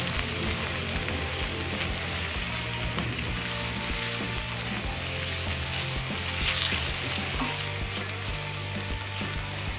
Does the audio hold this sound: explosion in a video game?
no